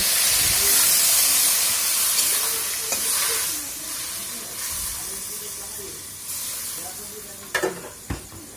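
Raw mango cooking in a pan for a sweet-sour chutney, a little water just added: a steady steam hiss and soft sizzle with occasional stirring scrapes, fading quieter through the middle, then a few sharp clinks near the end.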